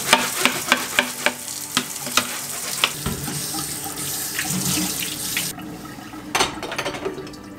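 Dishes rinsed under a running kitchen tap in a home sink, with steady water flow, clinks and knocks of plates, bowls and glasses at the start, and louder splashing near the end; no talking.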